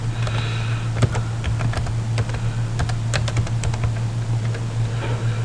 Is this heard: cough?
no